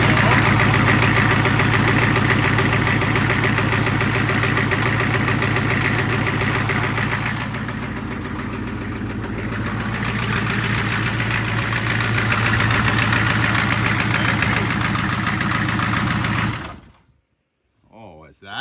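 A 6.5 turbo diesel engine in a Suburban runs steadily at idle with a loud, close, knocking clatter, running without the throttle hooked up, then shuts off abruptly near the end.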